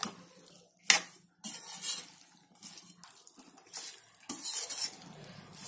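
Mixed vegetables for an instant pickle being stirred together in a bowl, with intermittent clattering scrapes of a spoon against the dish and soft rustling between louder bursts, close and alone.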